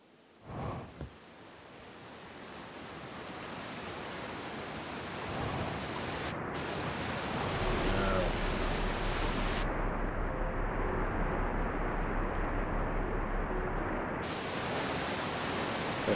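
Rushing water in Outer Wilds on a mod-altered Timber Hearth, a broad steady roar that swells after a few seconds and holds loud and continuous, with no talk over it.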